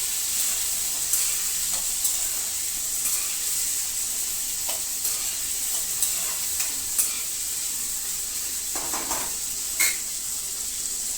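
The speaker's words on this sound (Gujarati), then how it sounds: "ટામેટા, મિક્સ કરી નાખશું।" Tomatoes stirred into hot oil in a pan, a continuous loud sizzle and hiss with occasional soft scrapes of the spoon, close and steady, with no talking.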